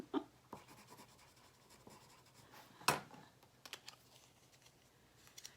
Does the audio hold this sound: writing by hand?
yes